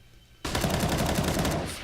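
Automatic gunfire in Counter-Strike: Global Offensive, a dense loud burst of rapid shots lasting over a second, close and continuous after a quieter lead-in.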